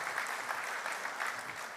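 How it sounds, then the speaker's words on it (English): Steady applause from the audience at the REAIM Summit 2024 opening session, continuous clapping with no pauses. "let's give another big round of applause to our Minister Kim."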